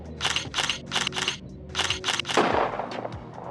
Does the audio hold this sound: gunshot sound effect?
yes